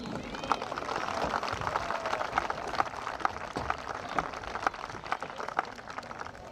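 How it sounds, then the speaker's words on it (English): A graduation audience applauds as a graduate is honored. Dense clapping fills the space with scattered louder individual claps, under some talk. "Round of applause for Dawson."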